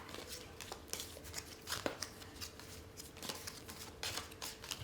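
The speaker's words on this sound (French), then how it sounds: "Après avoir sélectionné vos 60 cartes et mélangé votre deck" A deck of Pokémon trading cards is shuffled by hand, with a steady, soft papery riffling and flicking of cards throughout, close and fairly quiet.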